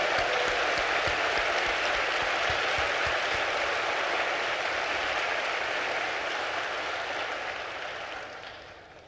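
Sustained applause from a large town hall audience, steady and loud for most of the stretch before gradually fading toward the end.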